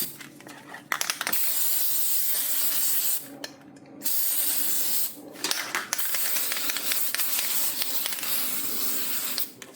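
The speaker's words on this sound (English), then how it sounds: "let's go ahead and spray our white lithium grease" Aerosol white lithium grease spray hissing in long bursts, three or four sustained sprays separated by short pauses, close and loud.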